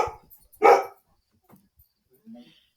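Dogs bark in a short, sharp burst nearby, then a fainter bark or whimper follows after a quiet gap, with little else audible.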